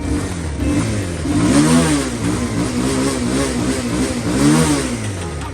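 A motorcycle engine, just started after failing to start for ten to fifteen days, revs loudly and steadily up and down, near and alone without talk.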